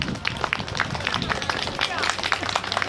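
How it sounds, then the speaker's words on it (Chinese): Audience applause for a university acoustic guitar club at an outdoor campus plaza: scattered, fairly close hand claps mixed with crowd murmur and voices. "我们给他们拍拍手"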